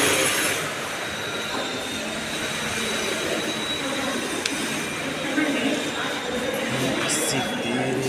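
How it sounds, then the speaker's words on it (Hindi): A train at a long railway junction platform in Amritsar, with a steady rumbling roar of rolling cars and faint wheel squeal throughout, fairly close and continuous, with no clear speech. "बहुत लंबो रेलवे जंक्शन है, प्लेटफॉर्म बहुत लंबो है।"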